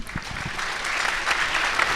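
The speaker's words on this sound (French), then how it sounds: "On peut applaudir" An audience applauds, the clapping building from scattered claps into a steady, full round that continues to the end.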